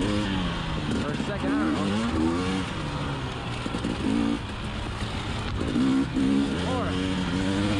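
A 2020 KTM 300xc TPI two-stroke enduro motorcycle engine runs steadily while ridden in third gear, its rising and falling drone close and continuous beneath a rider talking over it.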